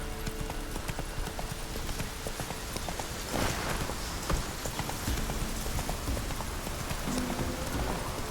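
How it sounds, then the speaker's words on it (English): Horse hooves clip-clop at a steady trot in The Witcher 3, the rhythmic taps loud and close over a soft rain-like patter, with no talking. "Whoa there, Roach. Giddy up."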